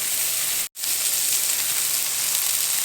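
A hamburger patty fries in a hot pan with a steady, close, bright sizzle that cuts out for a split second and then carries on evenly.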